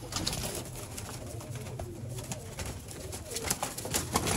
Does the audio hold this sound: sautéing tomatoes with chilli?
no